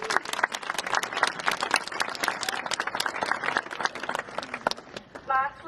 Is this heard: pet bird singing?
no